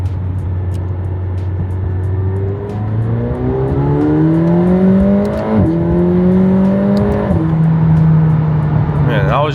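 A McLaren 720S sports car pulls hard on cold tyres as its engine climbs through the revs in a rising, loud drone. A short shift break comes midway, heard close from inside the car, and a voice briefly speaks over it.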